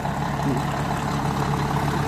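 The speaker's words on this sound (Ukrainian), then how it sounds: "Так, завели, щоб чуть поработало." A MAN or Renault truck's diesel engine idles steadily at close range, a continuous low, throbbing rumble with an even, unchanging pace and no voices.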